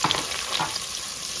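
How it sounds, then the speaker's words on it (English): Chopped shallots sizzle and crackle in a hot soup pot as they hit the oil, a steady close frying hiss with a few stirring scrapes, no talk over it. "Let's add our shallot."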